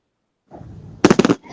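Low-bursting fireworks at a nighttime light show: a quiet rumble builds, then a rapid cluster of sharp cracks and pops rings out close by before fading into a softer tail.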